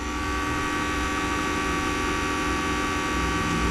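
A Fieldpiece VP87 vacuum pump runs continuously, pulling down an HVAC system through open hoses, with a loud, steady droning hum that stays even throughout and has no talk over it.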